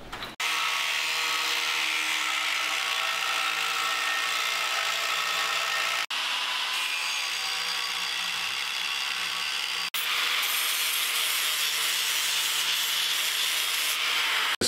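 Tape being rubbed around a turbo charge-pipe flange on a rotary-engine minibike to transfer the bolt-hole marks, a steady broadband scuffing friction that runs continuously with two brief breaks, close and fairly loud, no voices.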